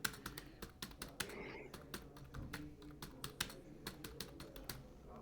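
Quick, crisp keystrokes clatter on a computer keyboard in an irregular typing rhythm, close and fairly quiet against a soft room background.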